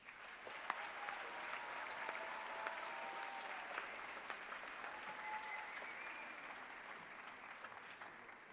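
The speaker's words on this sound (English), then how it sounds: "Students, can we please give your families, friends, and supporters a round of applause?" Steady, evenly dense applause from a large audience at a graduate recognition ceremony for an art, architecture and design school, continuous and somewhat distant throughout.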